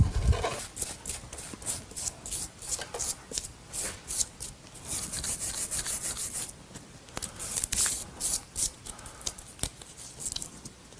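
Bark on a chamaecyparis bonsai is scrubbed with a brush: rapid, loud, close rasping strokes in uneven bursts, with a few pauses between runs of scrubbing.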